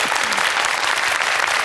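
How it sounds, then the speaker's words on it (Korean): A studio audience at a Korean talk concert claps loudly and continuously in dense, even applause, with no voices over it. "여러분 뜨거운 박수 부탁드리겠습니다"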